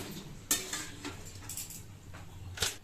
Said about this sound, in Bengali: এবার আমি এগুলো জল থেকে তুলে এরকম ঝাঁঝির মধ্যে রেখে দেব যাতে এক্সট্রা এ থেকে ভালোভাবে ঝরে যায়